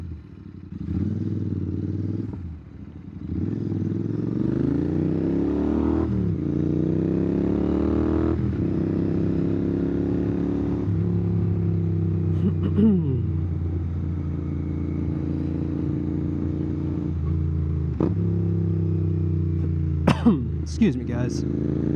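A Royal Enfield GT650 motorcycle fitted with a Nuke Little Boy slip-on exhaust, running with a steady loud engine drone that rises and falls in pitch, with clattery pops near the end and someone talking over it.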